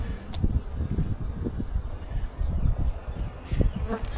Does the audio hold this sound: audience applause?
no